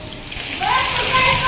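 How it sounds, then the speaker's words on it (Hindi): Heavy stormy rain pours over wet sand while a runoff channel of water rushes nearby, a dense, steady splashing wash that swells louder after the first half-second, with a voice faintly underneath. "इतनी तेज ही बारिश आना शुरू हो गई, ये देखें जी, ये पानी देखें।"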